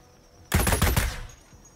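Rapid bursts of gunfire from the Ghost Recon Breakpoint shooter game, a loud, close volley of several quick shots that decays into a brief tail.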